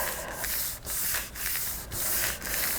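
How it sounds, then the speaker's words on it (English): A book cover is rubbed by hand in steady back-and-forth strokes, producing a close, dry scraping hiss with brief pauses between about five passes. "You don't want to rub that too hard because you don't want to rub a hole in it."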